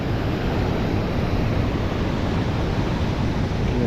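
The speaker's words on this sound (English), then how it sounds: "Water coming down." Water falling and rushing at Small River Caves in the Canadian Rockies, a steady loud broadband roar with no break, close by and alone with no voices.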